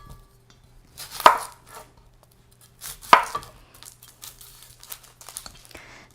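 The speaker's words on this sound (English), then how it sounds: "So I cut the 2 ends off and then I cut down in the middle." A knife cutting the ends off an onion on a board, with two sharp, close chops about two seconds apart over a quiet background hum and faint handling rustles.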